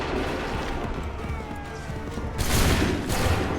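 Musket volley gunfire in Assassin's Creed III Remastered, with battle din building to two loud, broad crackling bursts near the end, close and forceful.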